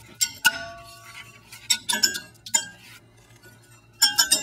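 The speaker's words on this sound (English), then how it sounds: "You can just pry the back one off." A brake pad being pried out of a Ford Focus caliper, a series of sharp metallic clinks and taps in irregular clusters, close and bright, with a faint low hum underneath.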